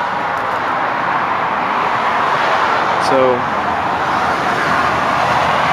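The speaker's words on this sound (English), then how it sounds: "there are cars literally right here" Continuous roar of road traffic passing right outside a porch, a steady wash of engine and tire noise with one brief high chirp partway through.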